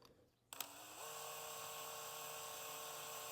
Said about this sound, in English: This should drill through this pretty easy